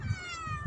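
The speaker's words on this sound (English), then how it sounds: "sweet meow meow sound in nature." A tabby cat meows outdoors, a short close tonal call with rising and falling pitch, fairly loud and alone.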